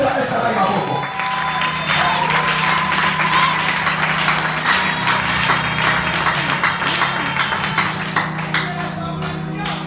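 A church congregation at a communion service claps and acclaims God together, a dense, steady wash of applause and voices carrying across the full ten seconds with music or singing underneath.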